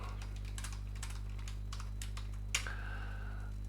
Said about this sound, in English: the only reason I'm typing